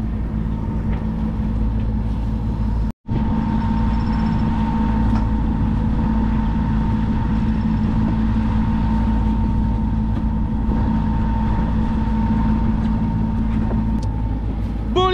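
A sailboat motors along under engine power on a flat, calm sea with almost no wind, a steady low rumbling drone continuing throughout with one brief break.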